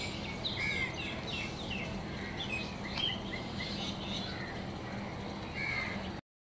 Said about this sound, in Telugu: పొద్దున్నే ఆ పిచ్చుకల సౌండ్స్